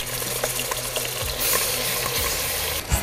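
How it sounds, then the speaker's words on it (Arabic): Onion frying in olive oil gives a loud, continuous, close-up sizzle and crackle, swelling slightly midway, with no talking. "إذا نقلي البصلة بالزيت"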